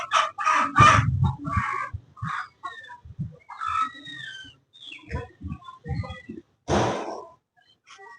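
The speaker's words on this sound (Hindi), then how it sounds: "ये रहा मुर्गा" A rooster perched on a rooftop crows and clucks in several close, loud bursts, with gaps between calls and a final strong crow near the end.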